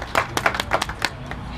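An audience at a Hope Inc fundraiser gives a short burst of applause, a few distinct claps rising and then fading within a couple of seconds.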